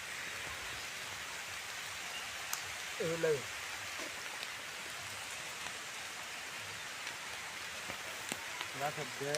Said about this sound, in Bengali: খাওয়া তো যাইতো না বৃষ্টি পড়তেছে